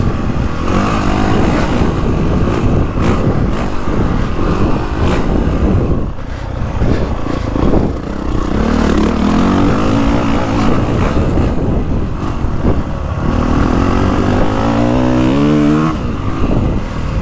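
A 2025 Honda CRF450R Works Edition dirt bike accelerates hard with a loud, steady, close engine roar that climbs in pitch several times, easing briefly around the middle before revving up again, with no talking.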